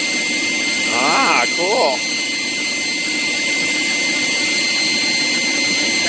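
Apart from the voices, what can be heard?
forced air propane forge burner roaring outdoors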